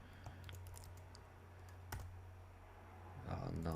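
Typing on a computer keyboard, faint scattered key clicks over a low background hum, with a louder burst of presses near the end.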